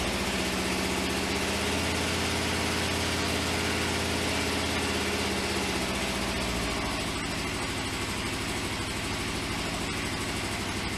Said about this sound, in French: Et on reste aux alentours de 2000 tours pour faire chauffer tranquillement.